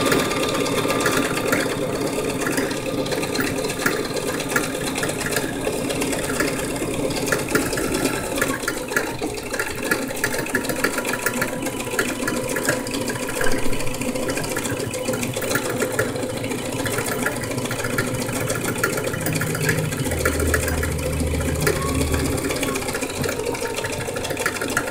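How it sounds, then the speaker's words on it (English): Sewing machine stitching back over the seams of a ruffle maxi skirt, a steady rapid mechanical whir and needle clatter running continuously up close, with no talking. "I just want to make sure I'm going back over my same stitches."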